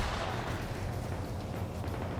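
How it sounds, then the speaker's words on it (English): Grenade explosions in an Arma military game, a dense continuous rumble of blasts with low booming thuds overlapping, loud and without a break, no talk. "More grenades blindly going out."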